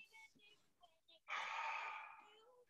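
A group of students in an exercise class draws a long, loud breath in through the nose together, a sustained rushing inhale following a few faint sniffs and murmurs.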